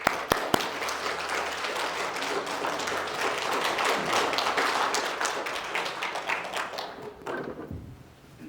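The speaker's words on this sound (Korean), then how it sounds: "우리 박수로 우리 축복하실까요?" A church congregation gives warm applause as a pastor comes forward at a celebration, a full, close clapping crowd after a few sharp opening taps, thinning near the end.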